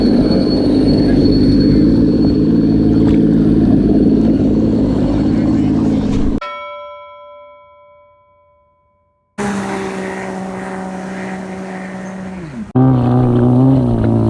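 Sea-Doo RXP-X and Yamaha FX SVHO and FZR jet skis drag racing on water, loud steady engine roar up close, a sudden cut to near silence with fading tonal whine, then the roar returns with a shifting pitch.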